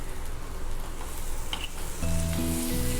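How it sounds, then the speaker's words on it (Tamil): Cut mushrooms hit a hot pan for a Christmas chicken pie filling, a steady close sizzle that swells louder partway through as they settle in, with a low hum underneath and no talking. "ஸோ இப்போ நம்ம கட் பண்ணி எடுத்து வச்சுருக்கிற மஷ்ரூம்ஸ் ஆட் பண்ணலாம்"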